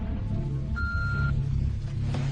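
An answering machine gives a single steady electronic beep, about half a second long, over a low background hum.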